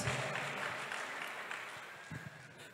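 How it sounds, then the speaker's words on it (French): A church congregation claps together in steady, broad applause during a French-language sermon, with the clapping filling the space at moderate loudness. "Clap for Jesus."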